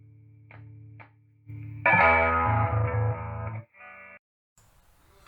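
A heavily distorted electric guitar chord through a Crate Blue Voodoo BV 6212 amplifier's distortion channel rings out loud and sustained, preceded by quieter clean picked notes, then cuts off into low hum and faint noise.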